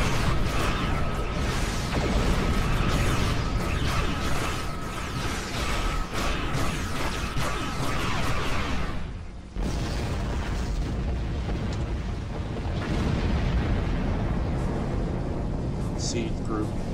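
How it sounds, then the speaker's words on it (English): In the Star Trek Online space game, a massive torpedo volley unleashes loud, rumbling bursts and explosions that roll continuously, with a brief dip midway before the booming resumes at full strength. "Massive torpedo volley."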